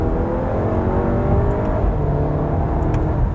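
The engine of a 2018 Volkswagen Tiguan accelerates hard during an overtake after a downshift, a loud, sustained rising drone with road and wind roar heard from inside the car, with no talk.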